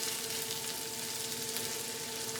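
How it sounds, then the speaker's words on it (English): Onion sizzles in a pan with leftover fat for a Minnesota tater tot hot dish, a steady close crackling fry with no voices. "Now we are gonna go ahead and fry up our onion."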